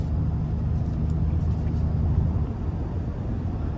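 A 2025 GMC Sierra 1500 Denali Ultimate's 6.2 V8 gives a steady low cabin drone and rumble under acceleration, continuous and muffled, with no talking.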